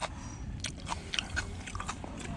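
Close, wet chewing and biting of raw rockfish sashimi wrapped in aged kimchi, eaten outdoors on a fishing platform, with steady crunchy mouth sounds throughout and no talking.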